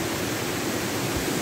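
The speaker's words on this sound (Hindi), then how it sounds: "आप देख सकते हो झरना" Steady, loud broadband rush of a waterfall near Nada village in Balod, heard up close at its front, constant and unbroken with no talk over it.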